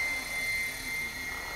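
An Assault 700 RC helicopter spinning near 1100 RPM, its motor and rotor giving a steady whine with a bright tone and a constant whooshing hum, fairly quiet and unbroken.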